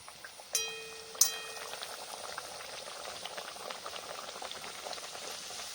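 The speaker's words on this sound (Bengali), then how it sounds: "তেল খুব ভালো করে গরম করে নিয়েছি এবার এক এক করে লুচিগুলোকে ভেজে নেব" Two metallic clinks, then a continuous bubbling sizzle of luchi dough frying in well-heated oil, moderately loud and steady until the end.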